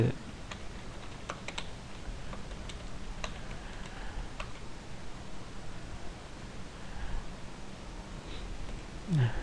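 Someone types steadily on a computer keyboard, and the soft, close keystrokes tick along over a faint background hiss.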